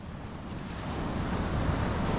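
Surf rolls onto the beach at Paria Bay, a soft, steady wash of waves that swells a little as it goes, with wind noise buffeting the microphone and no talking.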